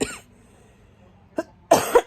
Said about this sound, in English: I have to cough a lot